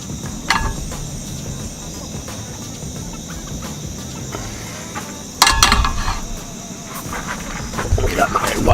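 Insects chirp at night at a lake campsite, a steady high-pitched drone running throughout, with nearby rustling and clattering from camp gear rising over it.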